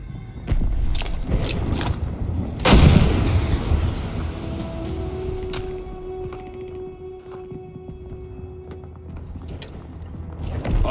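A flare fires with a sudden loud whoosh and burst during a Call of Duty Vanguard battle, then its hiss trails off. Scattered gunshots, clatter and a sustained tone surround it, and nobody speaks.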